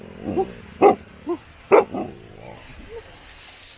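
A dog barks a few times during a canoe trip at Lake Superior Provincial Park, with several sharp, fairly close barks spaced irregularly and quieter yips or murmurs between them.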